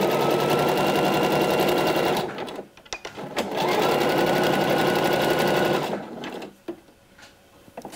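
A sewing machine stitches an elastic-waist skirt seam with backstitches, running in two close, loud, rapid bursts separated by a short pause, then falling quiet.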